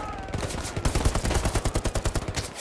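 Machine gun fire in the WWII game Hell Let Loose, a loud, close, rapid stream of evenly spaced shots that runs for over a second after some denser opening fire.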